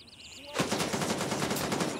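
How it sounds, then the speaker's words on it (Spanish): Rapid automatic gunfire bursts in the shooter game Gray Zone Warfare, starting abruptly after a moment of quiet and continuing as a dense, loud, close string of shots. "Me están disparando"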